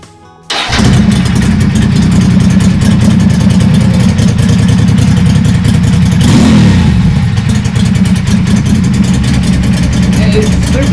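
A Ducati Monster cafe racer motorcycle fires up on choke, then its engine runs very loud and close, a dense steady roar with a brief rev blip midway, continuing without a break to the end.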